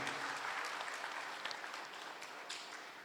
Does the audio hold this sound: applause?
yes